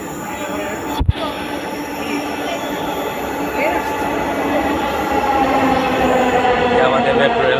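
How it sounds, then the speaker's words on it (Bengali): A metro train pulls into a station, a loud rumble of wheels and rails building steadily with a sharp bang near the start and faint squeals, without anyone talking. "আমাদের মেট্রো রেল চলে এলো।"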